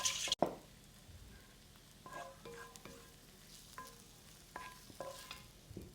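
Mushrooms frying in a pan while making wild mushroom pancakes: a sharp knock at the start, then a quiet, steady sizzle broken by several light taps and scrapes of a utensil, with no talking.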